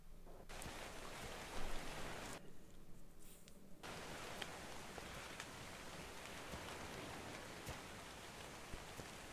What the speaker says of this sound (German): Im Regen.